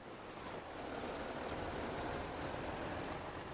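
A heavy road train truck in a video game, hauling about 146 tonnes, rumbles low and steady, building slightly as it pulls away, a continuous dense drone.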